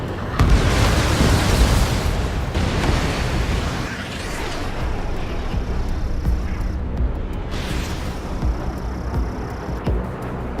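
A video game missile launch roars out, followed by a rumbling explosion and sustained booming blast noise, loud and close, with a second burst near the end and no speech.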